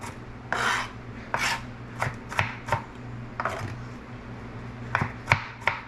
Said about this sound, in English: Just gonna do a rough chop.